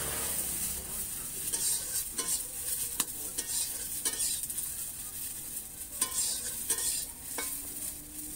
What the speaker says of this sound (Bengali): এবার আমি এই কাঁচা লঙ্কা গুলো একটু শুকনো খোলায় ভেজে নেব।